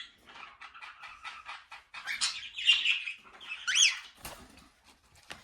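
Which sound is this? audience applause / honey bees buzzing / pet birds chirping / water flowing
pet birds chirping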